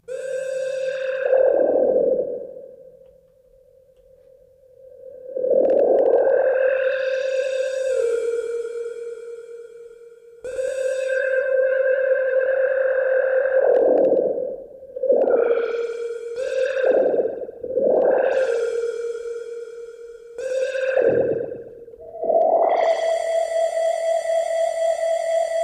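Roland MC-303 groovebox synth tone with its LFO sweeping the filter, a sustained buzzy note whose brightness repeatedly opens and closes in wah-like swells, loud and alone with no talking.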